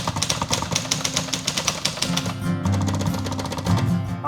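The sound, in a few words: typing on a manual typewriter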